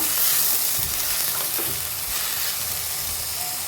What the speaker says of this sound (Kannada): ಉಪ್ಪು ಹಾಕ್ಕೊಂಡು ಎಲ್ಲ ಮಿಕ್ಸ್ ಮಾಡ್ಕೊಳ್ಳೋಣ